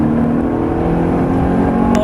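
A Ferrari accelerating hard on the Silverstone circuit, a loud, steady, close engine drone with a strong tonal hum throughout the short burst.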